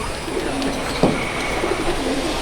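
Old-line Madrasi pigeons in a loft at Rajarhat, Kolkata, cooing in a low, steady murmur throughout, close by, with one slightly stronger note near the middle.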